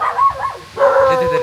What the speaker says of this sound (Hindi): वैन में से कुत्ते भौंक रहे हैं भाई।